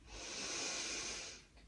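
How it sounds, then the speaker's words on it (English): One slow, deep full breath is drawn in and let out during a yoga stretch, a soft, close airy rush that swells and fades over a second and a half. "Take a lovely deep full breath in and out."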